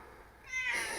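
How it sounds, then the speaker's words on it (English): A pet cat named Giza lets out one short, close meow that rises in pitch and stands alone in a quiet room. "that's the sound of my cat coming in to tell me that I didn't do everything quite right"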